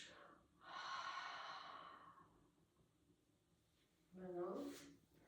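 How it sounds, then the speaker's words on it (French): Two slow, breathy exhales through the mouth during a yoga breathing exercise, the first long and airy, the second shorter and voiced, close to the microphone in a quiet room. "Expire par la bouche."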